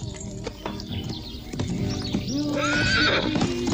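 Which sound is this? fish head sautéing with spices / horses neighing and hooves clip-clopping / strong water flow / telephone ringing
horses neighing and hooves clip-clopping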